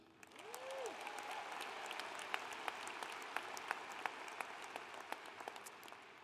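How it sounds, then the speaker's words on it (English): Applause for graduate professional students receiving degrees at a spring commencement ceremony, a large hall of continuous clapping heard from a distance, with a brief tone near the start. "Can we get a round of applause for them?"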